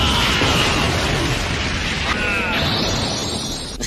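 An explosion in an animated cartoon: a loud, dense broadband blast and crackling rumble fills the whole clip, with a faint whistling tone sweeping through near the end.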